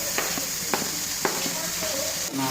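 Tomatoes sautéing in an onion masala for a fish curry, giving a steady close sizzle with a few faint stirring clicks spread through the pan noise.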